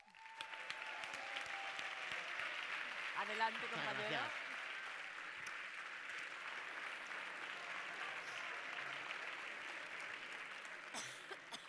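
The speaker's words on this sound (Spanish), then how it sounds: "Recibamos con un fuerte aplauso a Ricardo Moura." Audience applause at a science-communication semifinal in Barcelona, a steady wash of many hands clapping that holds for the whole stretch, with a brief spoken greeting partway through.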